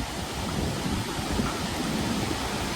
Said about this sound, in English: Oh crap, it's raining now.